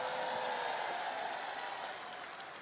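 Audience applause at a large event where thousands of Christian attendees fill the venue, a dense, steady clapping that stays loud throughout and eases off slightly toward the end.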